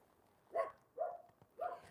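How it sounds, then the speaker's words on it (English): Three sharp dog barks ring out at even intervals, moderately near, in a quiet outdoor setting where buckskin is being scraped. "the dogs around here are just making all the noise in the world"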